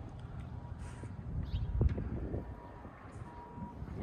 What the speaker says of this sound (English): It's kinda windy, kinda cold.